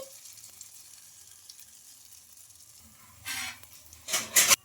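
Idli rava batter hitting hot oil in a pan, with a faint low sizzle and then two loud hissing sizzle bursts near the end, close by.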